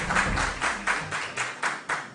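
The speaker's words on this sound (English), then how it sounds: "Round of applause, please." An audience at a school quiz contest applauds for the winning team, its clapping swelling in quick, regular pulses, fairly loud and close, with no talking over it.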